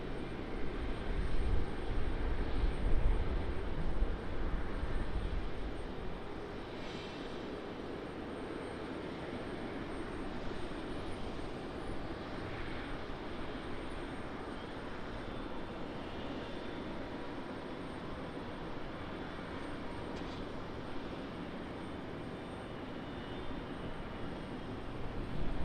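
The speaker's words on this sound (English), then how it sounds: "Got a Embraer pushback." An Embraer jet during pushback at Raleigh-Durham International Airport, a steady broadband engine roar heard from a distance that continues without a break, slightly louder at the start.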